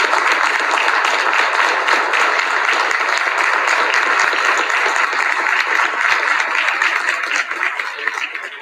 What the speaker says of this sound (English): offer them a round of applause,